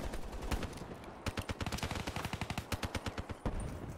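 An MR6 gun fires in a video game in a long run of rapid, evenly spaced shots, moderately close but fairly quiet, with a steadier stretch of automatic fire through the middle.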